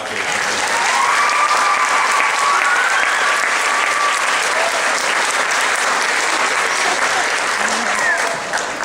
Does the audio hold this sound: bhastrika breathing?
no